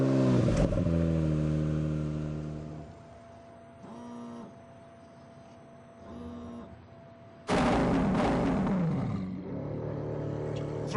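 A 730-horsepower car engine in The Grand Tour video game roars and revs loudly, with a steady drone that drops away, returns in short bursts, then surges back at full volume.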